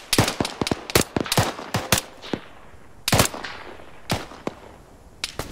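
Bursts of automatic gunfire in the military shooter Arma, several sharp rapid volleys and single shots spaced irregularly, loud and close, with fading echoes between them.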